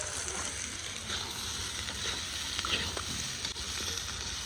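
Jackfruit seeds sautéed with garlic, onion, bay leaf, cardamom and cinnamon in a pan at an outdoor picnic cookout, giving a steady, close sizzle and frying hiss with faint stirring scrapes throughout.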